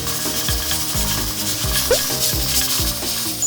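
An old pressure cooker's weight rattles rapidly and steadily as it boils on the stove, a loud continuous mechanical clatter with repeating ticking pulses and no voices.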